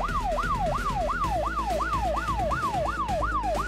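A police-style siren wails in a video game, rapid repeating rising sweeps, loud and continuous over a low rumbling background, with no voices.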